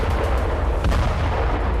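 Heavy tank and artillery bombardment in Gaza, a continuous deep rumbling roar of distant firing with overlapping booms and no clear gaps, loud and dense throughout.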